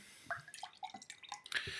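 Jumi Jumi pineapple-coconut jelly drink being poured, a short run of soft wet drips and glugs close by and quiet, with no talking.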